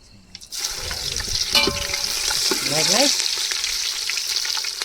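Onion drops into hot oil already seasoned with cumin and asafoetida, bursting into a loud, steady sizzle that holds throughout, with a few spoon scrapes and clinks partway in, cooked outdoors at a farm.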